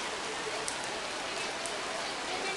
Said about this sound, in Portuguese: E agora está chovendo